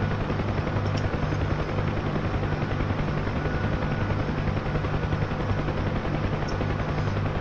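A Bell UH-1 Huey helicopter in flight over a river gives a steady, loud, continuous rotor and turbine roar with a rapid beating thump, and no voices.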